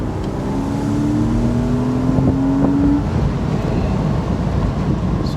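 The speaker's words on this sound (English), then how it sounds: "There's the engine when you start to give it gas." A car engine revs as the throttle is opened, its rising whine climbing over about three seconds before easing back to a steady, fairly loud drone, with no talking.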